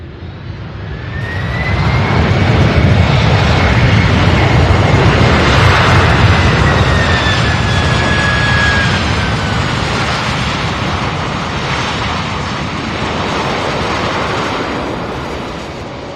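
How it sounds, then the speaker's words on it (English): An aircraft lands at SDF airport with a loud, sustained roar of jet engines and a whining tone that rises and then falls, before the rumble slowly fades. "Beautiful landing"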